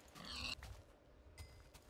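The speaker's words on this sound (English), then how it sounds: "Ooh, pig." A pig in Minecraft gives a short grunt up close, followed by a softer second grunt and then quiet.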